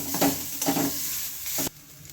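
Grated coconut and a bay leaf frying in a pan, a steady sizzle broken by two or three quick stirring scrapes, cutting off abruptly near the end.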